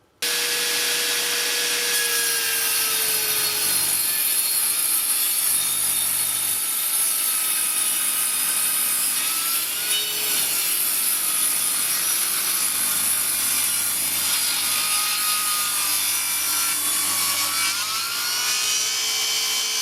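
Parkside PKTS 2000 table saw with a 254 mm blade cutting through wood in a workshop, a continuous loud high whine with slight pitch dips as the blade bites, running steadily throughout.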